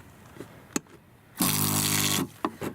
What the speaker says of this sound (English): a super duper small and very efficient 12-volt pump